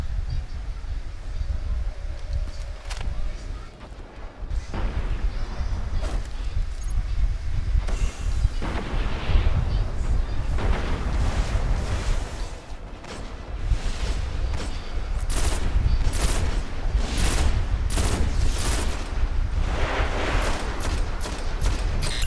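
Sniper rifle fire in the video game Destiny: repeated loud shots over a constant background rumble, with the bursts coming faster and closer together in the second half, and no voices.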